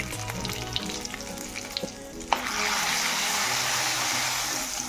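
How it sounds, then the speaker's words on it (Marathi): A tempering of mustard seeds, cumin and turmeric in hot oil for a Maharashtrian kadhi gives scattered pops and clinks, then erupts into a loud, steady sizzle that holds to the end. "फोडणी आपल्याला ही छान शिजून घ्यायची आहे"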